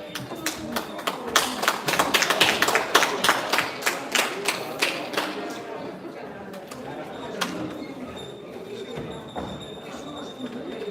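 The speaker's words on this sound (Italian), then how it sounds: "Applauso, grazie." Applause from the audience at an amateur Olympic-style boxing event in Padova, Italy, rises into dense, loud clapping, then thins and tapers off, with a ring announcer's voice alongside.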